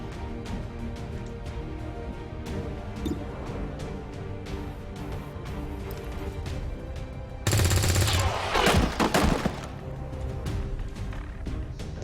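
Gunfire in a turn-based tactics video game, a short loud burst of rapid automatic shots over a steady background of game music and ambience.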